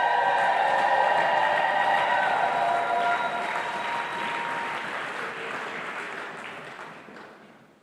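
A church congregation applauding, loud dense clapping from many hands that holds steady and then fades out toward the end, with a few faint voices mixed in.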